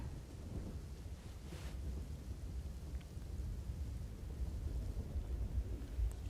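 Heavy monsoon rain pours steadily over Ahmedabad streets in a dense, even hiss, with low rumbling underneath and no voices.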